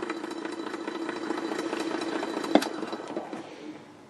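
Meck Trailblazer PM-5C5 record player motor spins with a steady low hum and slight rumble, faint and close, with a small click near the middle before the sound fades out.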